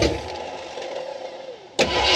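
Engine of an old farm truck after a new engine swap, a loud close start burst with crank noise near the beginning, then a rough, stumbling idle that picks up sharply again near the end.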